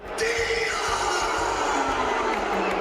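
A huge Canadian crowd at a UFC fight booing Diaz, a loud, sustained roar filling the arena from start to finish with no break.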